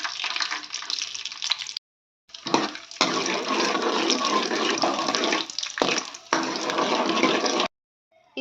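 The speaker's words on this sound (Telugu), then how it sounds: "ఇదిగోండి పల్లీలు అయితే ఫ్రై చేసేసుకున్నాం." Peanuts fry in hot oil, a dense hiss and crackle of sizzling that swells and cuts out in bursts with short silent gaps, close and fairly loud.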